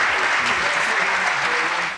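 Steady, dense applause for a musician performing from home, a continuous clatter of many clapping hands lasting the full two seconds before tapering slightly at the end.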